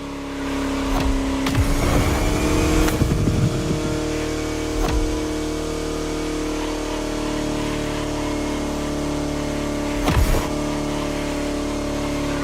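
A venerable vintage Bugatti, one of four units built, drives along countryside roads in France in The Crew Motorfest, its engine a steady hum with a few sharp bursts and revs early on and one more near the end.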